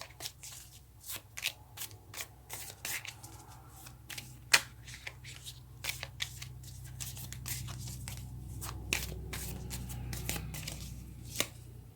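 A deck of tarot cards is shuffled by hand in a quiet room, giving a long run of crisp, close riffles and slaps at an uneven pace, with no talking.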